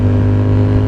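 Loud, close Yamaha XSR700 motorcycle with a Two Brothers SR1 aftermarket exhaust idling, a deep, steady exhaust rumble and a strong low drone, no speech.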